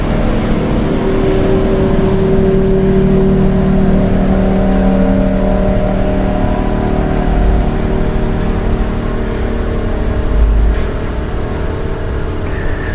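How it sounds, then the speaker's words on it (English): A loud motor vehicle engine rumbles steadily close by as it passes, with a sustained droning hum and faint shifting tones throughout, no voices present. "we let the truck pass."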